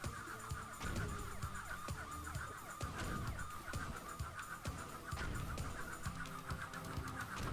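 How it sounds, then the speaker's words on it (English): A police siren plays in the video game Ty the Tasmanian Tiger, its wavering tone woven into a dense, busy mix of game music and effects that runs loud and steady throughout, with no talking. "What's with the police siren as well?"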